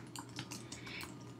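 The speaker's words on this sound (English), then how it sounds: "Notice that I am typing out the entire formal address." Fingers tap quickly on a computer keyboard, typing out a street address in a steady run of faint, close clicking keystrokes with no one talking.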